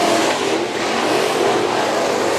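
Race cars roar loudly around a three-eighths-mile dirt track at Kern Raceway in Bakersfield during heat races, a dense continuous engine drone with no voices.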